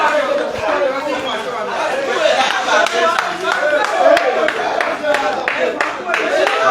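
Clapping after a standout pool shot at a money match, a scattered burst of hand claps mixed with crowd chatter and voices close by.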